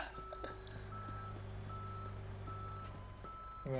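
A tow truck in the video game Police Simulator reverses, sounding a steady series of evenly spaced electronic beeps over an engine hum at moderate loudness, with no talking.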